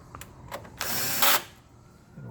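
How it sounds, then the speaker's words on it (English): Screws being driven back in by hand while a fax board is installed in a Toshiba copier; a few quick mechanical clicks are followed by one louder, sustained burst of tool-like whirring lasting about half a second, then quieter handling noise. "We're going to put the screws back in, just like that"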